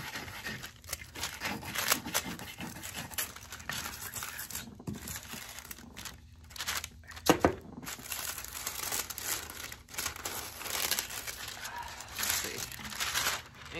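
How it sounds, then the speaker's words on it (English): A brush scrubs over aluminum foil on a Christmas birdhouse craft, producing a continuous close crinkling and scratching texture in uneven strokes, with a person speaking intermittently. "let's take our brush, brush the foil"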